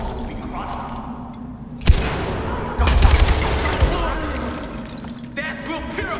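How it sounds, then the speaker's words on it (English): Gunfire aimed at ice formations in Far Cry 4, a sharp shot followed by a loud rattling burst of rapid fire with shattering debris, then fading to quieter game ambience, with talk over parts of it. "Shoot ice formations."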